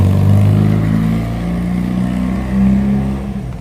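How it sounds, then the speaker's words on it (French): An old car passes along a street in Kamakura, Japan, its low engine rumble loud and steady throughout, swelling slightly as it goes by, with no talking. "Ah, c'était une bagnole, une vieille bagnole."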